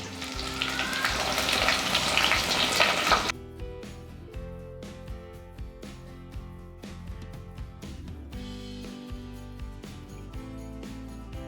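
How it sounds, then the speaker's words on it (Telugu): Green chillies and onions drop into hot oil with a loud, dense spattering sizzle that abruptly drops to a quieter, popping crackle with scattered spits, heard up close. "మిరపకాయలు వేసి అలా చెట్పట్లు ఆడినప్పుడు ఉల్లిపాయలు కూడా వేసేసుకోవాలన్నమాట"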